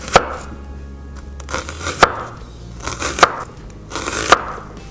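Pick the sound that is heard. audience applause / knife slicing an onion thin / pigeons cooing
knife slicing an onion thin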